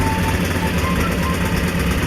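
A steady engine runs at a constant idle throughout, a dense continuous rumble with no pauses and no voices.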